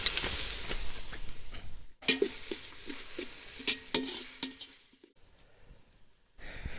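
Sliced onions and green chillies fry in a pan for beef dum biryani, producing a soft sizzling hiss punctuated by repeated scraping stirs, with brief quieter gaps.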